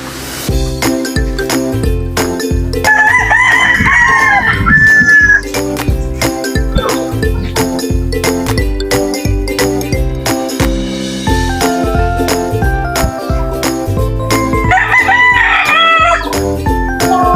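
Roosters crow and hens cluck in a flock of chickens waiting to be fed on a rainy morning; two loud crows rise over a steady, rhythmic clattering jingle that runs throughout.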